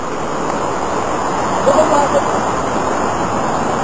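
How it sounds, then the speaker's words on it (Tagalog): Taytay Falls waterfall roaring as a broad, steady rush of water heard nearby, with a person speaking briefly over it. "Yan, ito po yung taas ng falls."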